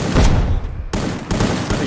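Gunfire in an esports video game: loud, dense, close-sounding bursts of shots fill the stretch, briefly breaking off about halfway through, then resuming as a rapid volley with another short gap.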